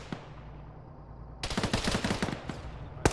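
Gunfire in the military video game Arma, opening quietly, then breaking into a rapid burst of automatic shots around the middle followed by one sharp loud shot near the end.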